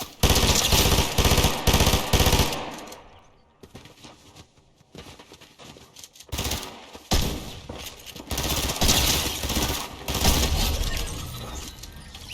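Rapid bursts of video game gunfire in Fortnite, loud and dense at the start, pausing briefly, then resuming as sustained automatic shooting with sharp cracking transients.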